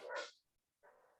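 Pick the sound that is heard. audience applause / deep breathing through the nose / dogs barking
dogs barking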